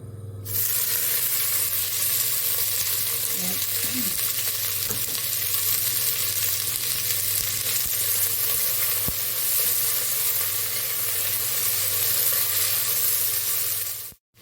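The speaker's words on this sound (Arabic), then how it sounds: "طبعا مجرد أن يسخن الزيت راح أخلي البصل." Chopped onion frying in hot oil in a pan while lentil soup is being made, a steady broadband sizzle holding for about fourteen seconds with occasional stirring scrapes, close and continuous with no talk.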